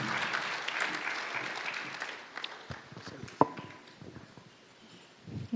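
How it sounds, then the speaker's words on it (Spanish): Audience at a church conference applauding, dense clapping that thins out and fades over a few seconds, with scattered claps and faint movement near the end. "le demos un aplauso fuerte al Señor"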